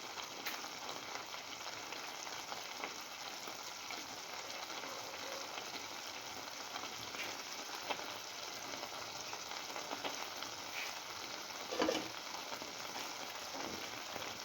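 A scrambled egg and cucumber mixture cooks covered in a pan, giving off a steady, even sizzle and crackle at a low level with no other sounds.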